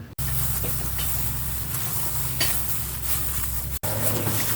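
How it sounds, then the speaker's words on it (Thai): A ladle mashes cooked sweet potato in a pot and pulls out the stringy fibres for a sweet potato dessert, making steady scraping and stirring over a continuous low hiss. The sound is close and even, with no talking. "ใช้ทัพพีบี้ เอาเส้นออกด้วยนะคะ"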